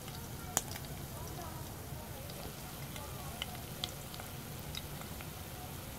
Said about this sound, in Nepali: 5 मिनटसम्म यसरी डिप फ्राई गऱ्यो भने यो खानको लागि रेडी हुन्छ।